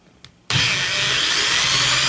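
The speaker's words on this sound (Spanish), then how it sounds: "Con cuidado, idealmente bajas revoluciones, controlando el taladro." A power drill starts abruptly after a faint tap and runs at a steady, loud whine, boring into a speaker baffle continuously for about a second and a half with no talk.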